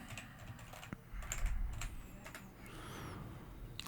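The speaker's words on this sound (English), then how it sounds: "Hear that keyboard? That's a fucking HP Hewlett Packard old school." Keys clatter on an old Hewlett Packard computer keyboard in quick, uneven bursts of typing, quiet and close, with faint room noise and no talk.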